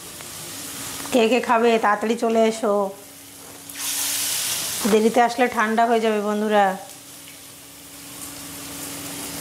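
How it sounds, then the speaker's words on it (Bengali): Lentil fritters (daler bora) frying in hot oil in a small pan give a continuous soft sizzle and hiss beneath two stretches of someone speaking, with a brief louder burst of hiss between them. "এই গরম গরম বড়া ভাজা মুচমুচে করে হবে"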